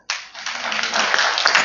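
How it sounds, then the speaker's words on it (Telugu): A short burst of hands clapping together, probably an audience at a church sermon, dense and fairly loud, rising quickly and sustained for under two seconds with no voices. "చప్పట్లు కొట్టండి"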